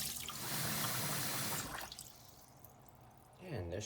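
Basmati rice being washed in water: steady splashing and swishing that eases off midway, then picks up again, with a voice talking near the end.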